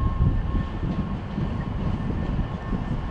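A British Rail Class 319 electric train rolls through Manchester Piccadilly station, giving a loud, steady low rumble with a faint electric whine and no talking.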